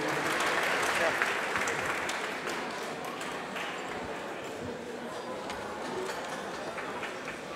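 A gala audience applauds the artist Daniel Lévy, with steady, dense clapping throughout. The clapping is loudest at the start and eases slightly while a voice speaks over it.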